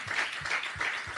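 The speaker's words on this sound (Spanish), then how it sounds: "Dale otro aplauso a Jesucristo." A church congregation claps in unison during a sermon, a quick run of even, rhythmic claps, about two per second, at moderate loudness.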